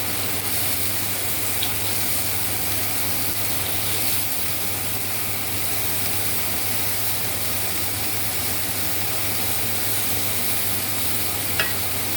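Meatballs frying in a pan over high heat, a steady dense sizzle that holds level throughout, close and continuous with no talk.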